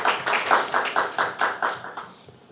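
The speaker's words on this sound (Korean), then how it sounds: "우리 응원의 박수 한번 칩시다." A church congregation claps together in a rhythmic, fairly even burst of about a dozen beats, close and full in the room, tapering off at the end.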